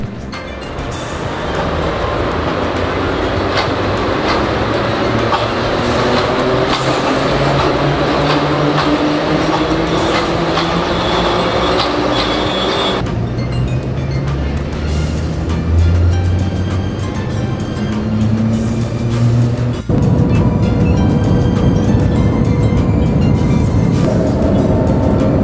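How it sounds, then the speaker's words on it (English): Siemens ThyssenKrupp maglev train pulling out of the station and accelerating, heard as a steady, loud rushing hum with a rising whine and deepening drone that builds smoothly and continuously, with a brief jolt near the end. "Exactly to the second, the train leaves the station. The acceleration is very smooth, and the ride is very comfortable."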